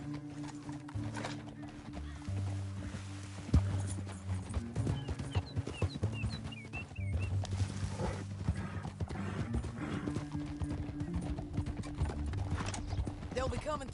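Horse hooves clip-clop at a gallop in a Western video game, a steady drumming under a game music score with occasional whinnies, fairly loud and continuous throughout.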